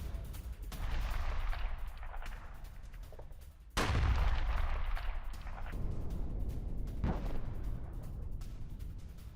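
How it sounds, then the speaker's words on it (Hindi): Israeli IDF artillery fires in southern Lebanon, a heavy booming blast about a third of the way in, then another duller thump amid continuous rumbling noise at a distance. "लेबनान में आईडीएफ की आर्टिलरी से गोलीबारी।"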